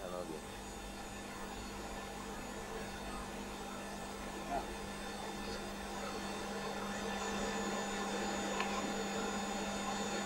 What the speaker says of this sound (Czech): Dochlazování proudem vzduchu. Pomocí ventilátoru.